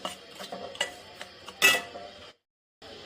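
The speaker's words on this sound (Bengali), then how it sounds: "চিনিটাতে একটু নাড়া দিতেছি।" A spoon stirring sugar in a pan, light scraping and ticking strokes at an uneven rhythm, with one louder clatter and then a short silence.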